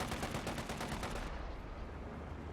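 Sniper gunfire in the real-time strategy game Company of Heroes 2, a fast run of sharp, loud shots over a dense battle din that thins after the first second.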